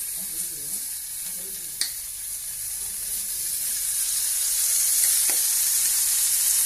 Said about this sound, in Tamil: அடுத்தது தக்காளி இதையும் போட்டு நல்லா வதக்கணும்